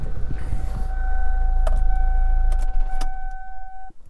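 A car engine runs after a jump start from a 2000A rechargeable jump starter with a compressor, idling with a low steady rumble, then shuts off amid a few clicks and a tonal chime.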